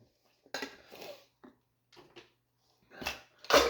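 Dirty dishes and cutlery are set into a kitchen sink in a few separate clattering bursts, ceramic and metal knocking close by, with quiet pauses between them.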